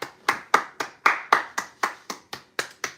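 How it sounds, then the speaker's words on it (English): A single person claps slowly and steadily, about a dozen sharp, evenly spaced hand claps close by with no talking. "Y'all deserve a round of applause,"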